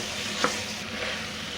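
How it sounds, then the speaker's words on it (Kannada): Cooked rice for a mushroom biryani being stirred and mixed in a hot pot: a brief sizzling, scraping rustle with one sharper scrape near the start, no voices. "ಅನ್ನ ಮಿಕ್ಸಿಂಗ್"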